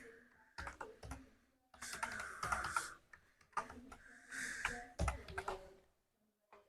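Computer keyboard typing during Linux Mint setup in a VMware Workstation Pro virtual machine, a name being entered as short irregular bursts of clicking keystrokes, close and clear, with pauses between groups.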